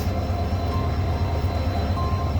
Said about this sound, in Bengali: এ পাশে দাঁড়ানো আছে ঢাকাগামী হাওড় এক্সপ্রেস